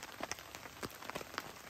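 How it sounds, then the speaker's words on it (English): Rain pattering on a tent during a hilltop camping trip beside a lake, a steady soft wash of drops with scattered louder taps, fairly quiet and close, no talking. "Camping in the rain!"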